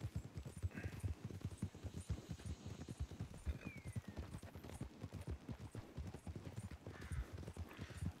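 Rhythmic clip-clop of horse hooves in the video game Red Dead Redemption 2 trots steadily throughout, close and clear, with a brief whinny-like sweep in the middle.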